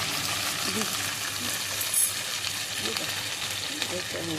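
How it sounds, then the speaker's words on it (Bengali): Tomato frying in hot oil for dhokar dalna, a traditional Bengali dish, gives a steady broadband sizzle throughout, with faint voices murmuring beneath it. "ফার্স্টে টমেটোটা দিয়ে দেওয়া হচ্ছে তেলের মধ্যে।"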